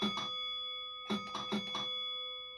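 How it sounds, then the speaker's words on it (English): A train bell rings inside a train simulator game on a Midland Main Line route, giving a few bright ringing strikes: one pair, a pause, then three quick rings with a sustained resonant tone underneath. "Listen for the bell."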